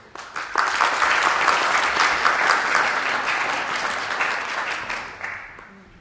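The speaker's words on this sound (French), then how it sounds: "Merci de l'applaudir." An audience at a commemoration of the 17 October 1961 Paris massacres applauds a speaker being introduced: a dense, sustained round of clapping that starts abruptly and fades out at the end.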